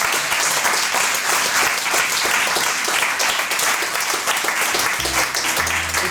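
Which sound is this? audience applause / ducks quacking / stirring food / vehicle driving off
audience applause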